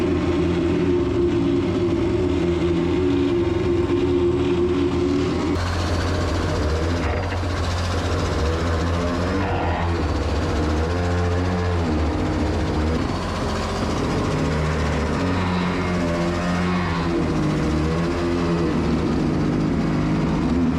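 An excavator engine runs loudly with a harsh, pervasive mechanical noise, a constant heavy drone and rattling tone that shifts character partway through, with no talking.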